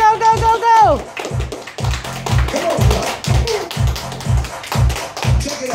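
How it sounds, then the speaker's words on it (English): A group of people clap their hands in rhythmic bursts during a children's movement and dance game, with a voice talking over the steady clapping. "Everybody clap your hands."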